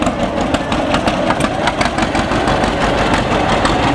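A John Deere two-cylinder tractor pulls a Halloween-themed wagon at a cotton gin festival, its engine chugging in a steady, loud, rhythmic putt close by.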